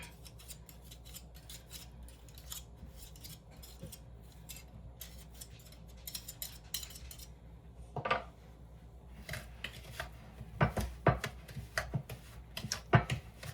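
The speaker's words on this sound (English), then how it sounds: "take your spoon and kind of just shove it all out, just because it does get stuck in the whisk a little bit" A spoon scrapes thick batter out of a whisk, producing dry rasping strokes and light metallic clicks, sparse at first and then sharper, louder taps near the end.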